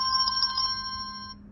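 Diliberto DT35 smart watch notification tone: a bright electronic chime with a few quick pulsing beeps over a steady ringing tone, close and clear, lasting about a second before cutting off.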